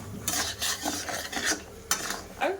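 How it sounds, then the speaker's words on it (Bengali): Gur kathi sweet sticks stirred steadily in a pan over a switched-off gas flame, giving a series of scraping, clattering strokes about every half second, close and moderately loud with no talk. "এবার অনবরত নাড়তে থাকবো, নাড়তে নাড়তে আস্তে আস্তে শুকিয়ে যাবে।"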